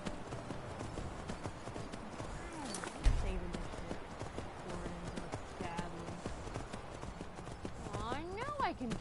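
Hooves clip-clopping steadily from a horse in a PS4 video game, a continuous trotting rhythm mixed with game sounds, with a voice talking over it throughout.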